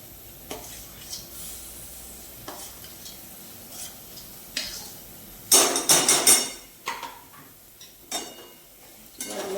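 Onion, ginger, garlic and chilies cook in a pan for paneer bhurji, with a soft sizzle beneath intermittent spatula knocks and scrapes, including a brief burst of louder clattering stirring near the middle.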